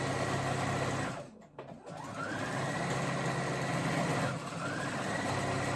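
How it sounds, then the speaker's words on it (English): A sewing machine runs a small zigzag stitch on elastic for a dress set, whirring loud and close with a brief stop partway through before starting up again. "I'll do a small zigzag stitch back and forth."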